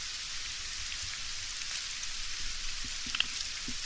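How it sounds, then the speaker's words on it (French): Rain falls in the video game Postal 2 Paradise Lost as a steady hiss of drops over the scene, with a few faint clicks and thuds near the end. "D'accord, ok, il pleut."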